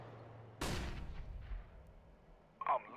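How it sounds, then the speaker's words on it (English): A flashbang grenade goes off in the video game CS:GO as one sharp, loud bang that rings out and decays, followed by faint echoes and a short metallic burst near the end. "Throwing a flashbang."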